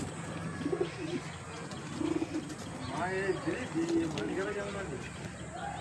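Madrasi pigeons coo in soft repeated rumbling phrases at a loft, mixed with occasional chirps and a steady background din, with a voice talking over parts of the clip.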